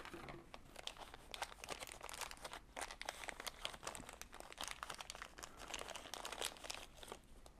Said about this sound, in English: It comes packed in some plastic.